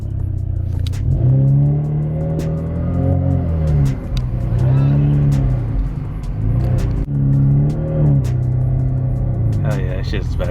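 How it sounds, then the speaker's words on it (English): A Cadillac ATS 2.0 turbo with a ZZP catted downpipe revs repeatedly, its exhaust rising and falling in loud, close surges, with people talking over it. "show y'all the sound of the ZZP Downpipe"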